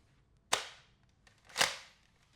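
Two sharp, loud cap pops from an old musket-style toy cap gun, about a second apart, each with a brief ringing decay, heard alone with no talking.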